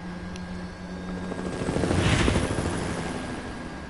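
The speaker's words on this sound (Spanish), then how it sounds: "Ahí los va a levantar en el helicóptero" Resident Evil 4 Remake video game helicopter, a steady rotor thrum that swells louder toward the middle as if passing close, then eases off slightly, heard alone without talk.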